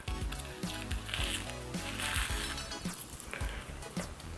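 A dried peel-off facial mask is pulled away from skin at home, making close, soft sticky crackles and irregular peeling rips that come in short bursts, with no talk.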